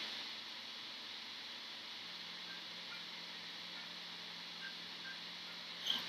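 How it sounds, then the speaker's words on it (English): A mobile phone rings through a quiet stretch of a ShellShock Live gaming session, a steady electronic tone held for several seconds at moderate level. A sharp noise comes at the very end. "Sorry about that, that's my mom's phone."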